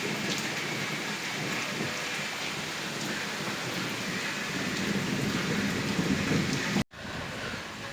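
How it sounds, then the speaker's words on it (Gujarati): Steady, heavy rain pours outside in a dense, continuous hiss, with a low rumble of thunder beneath it and a brief cut near the end. "તો ગાઈસ બહાર તો વરસાદ પડે છે"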